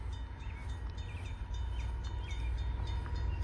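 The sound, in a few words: CSX freight train coming south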